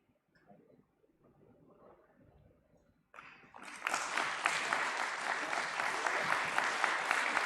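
Quiet murmuring gives way to a rising round of applause from the audience at the Uniparts India Ltd IPO listing ceremony, building quickly into loud, sustained clapping as a speaker is welcomed on stage.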